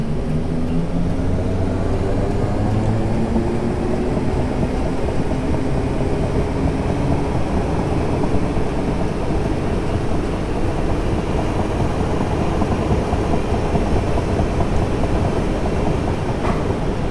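In Train Simulator 2018, a commuter train on the Portsmouth Direct Line pulls away from Hampton Court with a loud, continuous low rumble and steady rolling drone throughout, with no talk over it.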